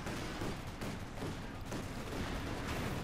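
Dense gunfire and small-arms bursts rattle against a German Panther tank in a Company of Heroes 2 1v1 match, a steady loud barrage of cracks and impacts running throughout with no talk.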